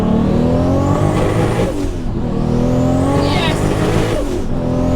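A 1400 hp Toyota Mark IV Supra with a 3.4-litre next-gen turbo engine roars hard through the gears, its rising engine note running loud and close, with tyre squeal breaking through and a voice speaking over it.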